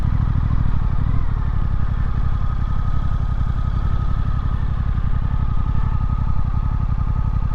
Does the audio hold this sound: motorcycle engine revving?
yes